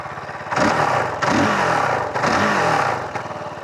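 Kove 450 Rally motorcycle engine revving hard in three loud, close bursts, each rising and falling with a rough mechanical knocking rattle running through the engine note.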